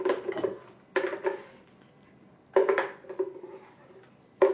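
A spoon and spatula scrape and clink against a bowl while cheese cream is poured into a white cloth, in several short bursts of close clatter with quiet gaps between.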